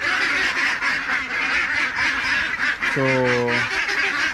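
A crowd of ducks in a pen quacks noisily and continuously before feeding time, with a clear nearby quack standing out near the end and a brief voice speaking.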